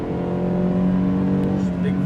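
A 1989 Mercedes-Benz 560 SL roadster's big V8 pulls strongly under acceleration, a loud, steady low rumble with rich harmonics that rises slightly while voices talk faintly over it.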